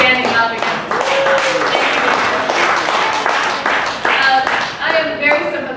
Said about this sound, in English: let's just do a huge applause for David for standing up against this